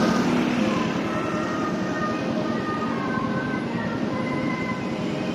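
Elevated skytrain rolling past on its viaduct near Don Mueang, a steady loud rumble and hum with tonal whine that holds throughout, no voices.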